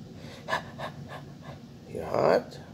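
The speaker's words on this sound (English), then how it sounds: "She's panting like a dog." A Persian cat panting like a dog on a hot day outdoors, a series of soft rhythmic short breaths close by, ending in a louder breathy gasp.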